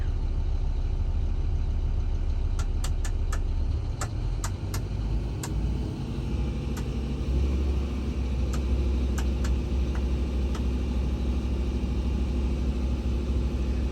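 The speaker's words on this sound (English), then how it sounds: "I'm gonna rev it up here. Up to our working RPM, see what it sounds like." A Doosan DX300 excavator's diesel engine runs close by at a steady, deep rumble, its pitch rising as it is revved up to working RPM and then holding a loud, even drone, with a few faint clicks over it.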